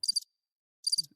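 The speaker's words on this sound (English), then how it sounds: "Can you just play crickets in this section?" Cricket chirping sound effect: two short bursts of shrill rapid pulses separated by silence, clear and close.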